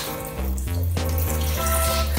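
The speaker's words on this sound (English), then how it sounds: "it says this one will like sprinkle water on Captain Elmo" A Sesame Street Elmo bath toy sprinkles water in a steady, close splashing stream, like a running tap, with no talking.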